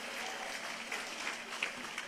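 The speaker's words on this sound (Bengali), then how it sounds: "আপনাদের জন্য একটি জোরে করতালি প্লিজ," Parents at a university convocation receive a round of applause, a steady, fairly faint wash of clapping from a large crowd in a hall, continuing throughout.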